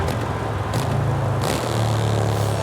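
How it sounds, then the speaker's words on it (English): A car engine in Forza Horizon 5 rumbles loud and close with a gruff, motorcycle-like tone. Revs flare twice as it downshifts, then it settles back into a steady drone. "Oh, the downshifts are so good."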